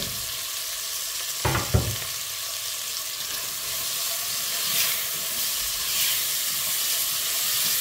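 Onion sautéing in a pot for lettuce soup, a steady close hiss and sizzle throughout with a couple of brief clatters of stirring early on.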